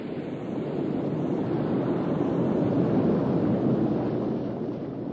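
Ocean surf rolling against the outer edge of an Australian coral reef, a steady, dense wash of breaking waves with a low rumble and some wind, sustained throughout with no voices.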